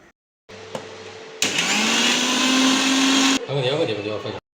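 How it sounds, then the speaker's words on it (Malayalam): A mixer grinder grinding masala with lemon juice whirs loudly in a sustained two-second burst, preceded and followed by lower motor hum, close by. "മിക്സിയിൽ നല്ലോണം അരച്ചെടുക്കുക"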